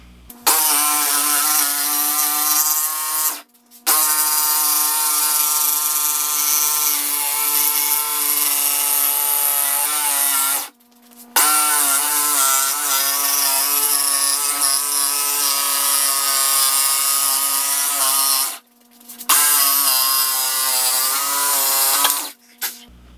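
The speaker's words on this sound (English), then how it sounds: "I'll just drill a hole in there and use the jigsaw and cut the hole out." Jigsaw cutting out a hole in wood while building a dust collection system, a loud continuous buzzing cut in three long passes separated by brief pauses, with no talking.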